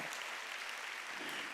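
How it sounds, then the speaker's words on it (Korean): A church congregation at a Wednesday worship service applauds steadily, a dense, even wash of clapping from many hands that holds at a constant level throughout. "박수 치라 이거, 박수 치라 이거."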